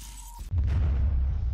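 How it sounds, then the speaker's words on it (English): Explosion sound effect from a video editing app's cinematic effects, a sudden low boom after a brief tone, then a sustained loud rumbling roar that stays steady to the end, with no talk. "and you got a little explosion"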